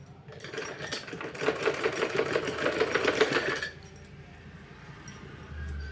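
A sewing machine stitches old cloth into warm homemade shoes, turning the piece as it sews: a rapid, steady run of close mechanical stitching for about three seconds, then it stops and only a faint room hum remains.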